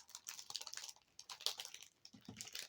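Rubber stamp tapped repeatedly onto white paper, a quick series of close, crisp taps and knocks in uneven bursts with short pauses between.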